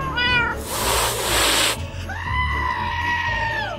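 Cat meowing in the Minecraft video game: a short harmonic meow early on, then a longer drawn-out meow after a burst of noisy game sound, fairly loud and with no talking over it.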